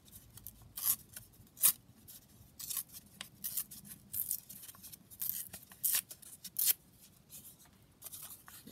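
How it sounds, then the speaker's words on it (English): Paper is torn by hand along a junk journal page in short repeated rips, each a crisp dry tearing burst, close and fairly quiet with pauses between strokes. "still got this from another page, so I'm just going to tear along here"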